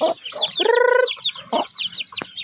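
Backyard chickens and chicks cluck and peep in quick overlapping bursts at feeding time, close by, with a few longer drawn calls mixed in.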